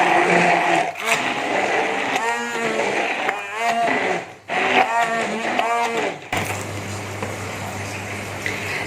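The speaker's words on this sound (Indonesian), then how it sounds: "mungkin tidak sampai 5 menit ya saya blender udang di sini" An Oxone blender grinds shrimp, its steady whirring motor drone running loud and close after a stretch of talking.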